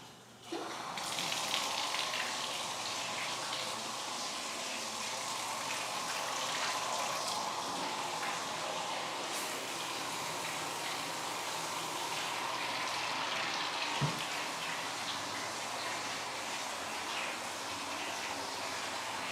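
Household water running steadily after the supply is turned back on during a home inspection, a continuous broadband rush with no talk over it.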